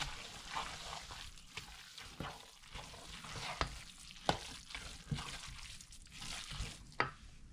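Coconut oil being stirred into a cassava pone batter in a bowl, with quiet wet squishing strokes and soft dripping repeating at an irregular, close-up pace.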